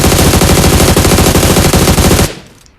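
Automatic rifle fire in PUBG Mobile, aimed at a bird near trees: a loud, close, rapid and steady burst of shots running about two seconds before cutting off and fading out.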